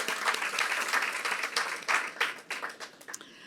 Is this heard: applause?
yes